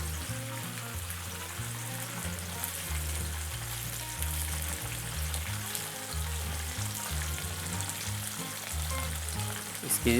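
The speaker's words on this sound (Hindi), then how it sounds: "ऑयल हमारा हो चुका है गरम। फ्लेम को कर देंगे बिल्कुल हल्का, ताकि कोफ्ते इसके अंदर डालें तो वो जले नहीं।" Kofta balls frying in hot oil over a low flame, giving a steady, close, dense sizzle that holds throughout with no talking.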